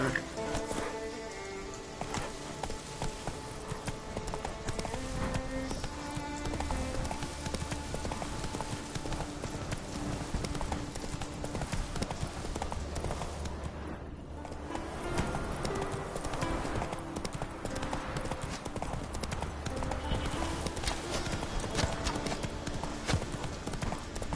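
Roach, a horse in the video game The Witcher 3, gallops with a steady, rhythmic clip-clop of hooves that runs throughout, layered over continuous game music.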